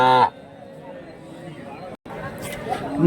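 Large native cattle at the Kelamangalam cow market give a short moo or bleat-like call up close, followed by a steady market hubbub with people talking in the background.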